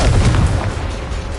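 A loud, deep blast from the Confringo fire spell in Hogwarts Legacy, a heavy booming explosion that rumbles on and slowly fades over a little more than a second.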